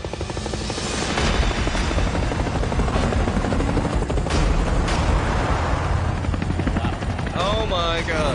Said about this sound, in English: Suddenly, in the distance, come two bloody helicopters and two trucks just driving and flying towards us